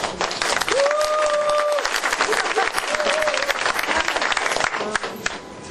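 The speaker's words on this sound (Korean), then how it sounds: "우리 임덕기 대장님한테도 좀 박수 한번 보내주세요" A large indoor crowd claps in sustained, dense applause at a women's volunteer fire brigade chief's inauguration ceremony, honoring a retiring deputy chief, loud and steady throughout with faint voices mixed in.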